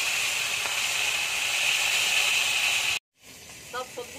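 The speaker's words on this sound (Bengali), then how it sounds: "মাছটা ভাজা হচ্ছে" Fish frying in hot oil for a Bengali fish curry gives a loud, steady, broadband sizzle for about three seconds, then cuts abruptly to near silence with a few faint clicks.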